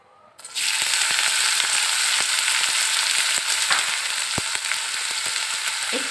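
Chopped onion and garlic drop into hot oil in a wok and burst into a loud, dense, continuous sizzle that holds steady, with scattered small crackles and pops, close by and alone.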